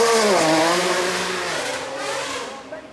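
A Lamborghini Revuelto climbing a hill, its engine loud and close with a rising, high-pitched rev that drops in pitch and fades as the car pulls away.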